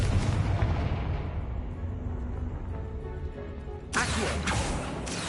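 A Confringo blasting spell explodes in the Hogwarts Legacy video game. A dense, rumbling roar builds steadily, then a sharp, loud blast bursts out near the end and rings on.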